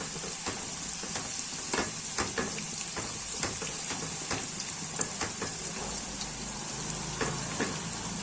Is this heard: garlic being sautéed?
yes